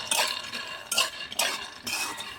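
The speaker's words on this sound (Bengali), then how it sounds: "খালি কড়াইয়ে ভালো করে বাদামটা উলিয়ে নিচ্ছি" Peanuts are dry-roasted in an empty wok and stirred with a utensil, making repeated scraping, rattling strokes of metal and nuts. The stirring comes in a steady rhythm of about four sweeps, close and moderately loud.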